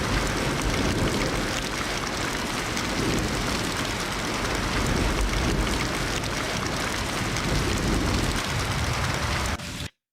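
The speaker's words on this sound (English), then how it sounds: "the rain noises were so relaxing and peaceful," Steady, dense rainstorm ambience from the video game Ghost Master, a loud continuous downpour hissing evenly throughout with a low rumbling undertone, no voices, cutting off abruptly at the end.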